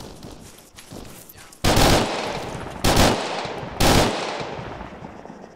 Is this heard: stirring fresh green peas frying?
no